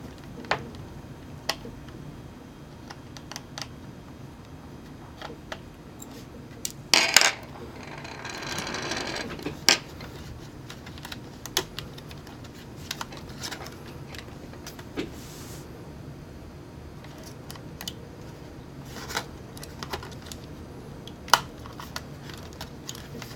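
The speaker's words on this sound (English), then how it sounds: "taking out the wireless card now" A wireless card being removed from a Sony Vaio laptop: sparse small clicks and plastic ticks over a low hum, with a brief scraping burst partway through, close and quiet, no talking.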